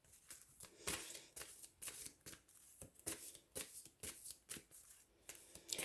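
Tarot cards being handled, shuffled and flicked through while someone searches for specific cards, a quick series of soft papery riffles and snaps, close and fairly quiet, with no talk.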